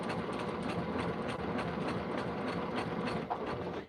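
Sewing machine running along the binding of fabric placemats, a continuous close mechanical chatter with a quick steady needle rhythm that holds at an even level throughout.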